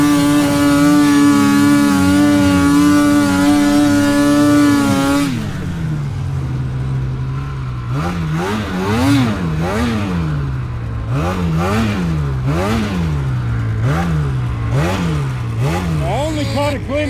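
Polaris 9R snowmobile fitted with an Arctic Cat track climbs a straight hill, its engine holding a high steady whine and then surging and dropping in repeated revving swells, loud and close throughout.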